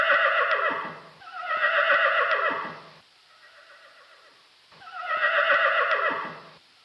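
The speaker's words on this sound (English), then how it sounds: "Horse." A horse whinnies loudly twice, each neigh a long quavering call that falls in pitch, with a softer snort between them.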